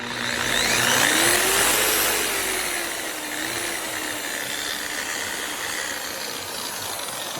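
A Makita 9227C buffer, freshly repaired with a new controller, revs up with a rising whine that peaks and then settles into a steady high-speed hum, loud and close with no talking.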